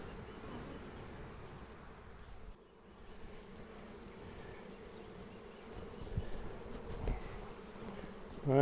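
A swarm of honeybees caught in a swarm trap hums and buzzes continuously at close range, a dense droning with small shifts in intensity and no talk.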